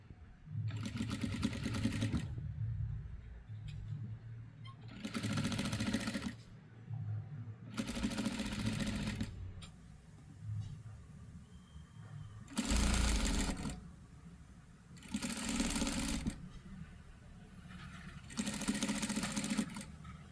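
Sewing machine stitching fabric for a party frock, running in repeated bursts of rapid mechanical whirring, each lasting one to two seconds and separated by short pauses, loud and close.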